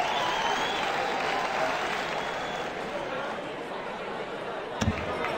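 A darts video game crowd applauds and cheers in a steady wash of noise that fades slightly, with a brief thud near the end and a commentator talking over it.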